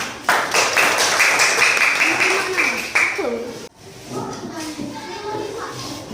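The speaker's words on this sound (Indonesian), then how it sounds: "Aplaus dulu untuk yaumul kiamat." A classroom of students claps in a rhythmic burst of applause for a few seconds, followed by a teacher's voice and chatter.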